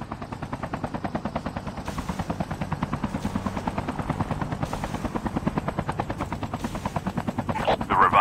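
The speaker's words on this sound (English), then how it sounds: "Chopper there." Helicopter rotor thumping steadily and loudly in the mobile shooter Call of Duty Mobile, its rapid rhythmic chop running throughout, with gunfire-like bursts and game effects mixed in.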